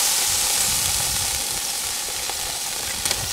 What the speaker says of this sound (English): Fry it a bit.